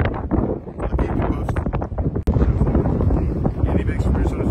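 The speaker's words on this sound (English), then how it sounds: "A little bit windy today" Gusty wind at the Arizona-Mexico border buffets the microphone, a loud continuous rumble throughout, with a brief dropout midway.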